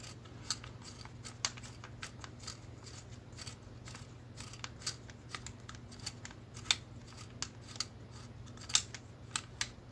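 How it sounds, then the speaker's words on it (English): Rifle barrel nut on a GForce Armory GF00 being loosened and spun by hand, giving a run of small, sharp metallic clicks and ticks at an irregular pace, close and fairly quiet. "We can also go ahead and loosen up this barrel nut."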